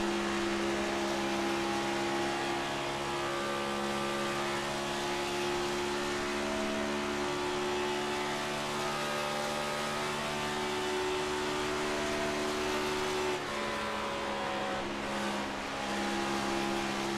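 Onboard engine note of a race car in a racing video game, a steady high drone held near full throttle that dips briefly as the driver just barely lifts for a turn, then climbs again, with no talking.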